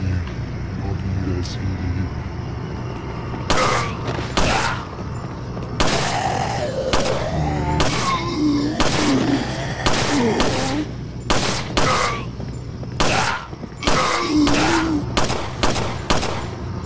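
Gunshots ring out in Resident Evil 4, a string of sharp, loud single blasts spaced irregularly across the stretch, mixed with someone talking in between and over low game background noise.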